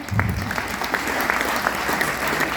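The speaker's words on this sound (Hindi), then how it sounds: "44 लाख की तालियां हैं ये।" Audience at a club event breaking into applause: dense, continuous clapping from a crowd of listeners, fairly close and loud throughout.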